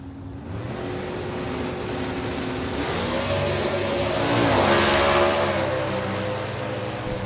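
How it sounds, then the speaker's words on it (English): A drag racing car's engine revs up and holds a rising, roaring pitch as it runs down the strip at Maple Grove Raceway. The roar is loud, steady and continuous, and it swells to a peak midway through. "Aaron Allison making some RPMs."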